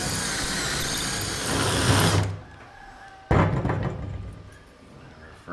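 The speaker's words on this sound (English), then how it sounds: "drill our first hole, making sure our chrome moly tube is in there" A drill bores a first hole through a chrome moly tube held in drill guides, whining loudly for about two seconds, then stopping, followed by a short second burst and a fading rattle.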